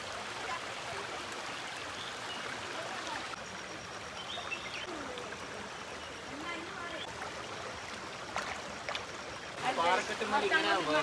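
Stream water flows among rocks in a Wayanad forest, a continuous soft rushing hiss with occasional faint voices, growing slightly louder toward the end.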